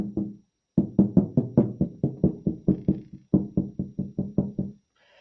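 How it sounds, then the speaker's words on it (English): Knocks on a hard surface in a quick, steady series of about twenty raps, split into two runs by a short pause. They are fairly loud and close, with no talking. "another knock here"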